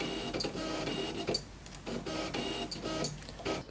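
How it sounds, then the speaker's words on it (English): A Fujifilm 35mm f/1.4 lens on a Fuji X-T3 body whirs and clicks as its focus element physically shifts, giving close, repeated short mechanical buzzes and ticks in uneven bursts. "when I was focusing, the lens actually physically moves and this causes a bit of noise."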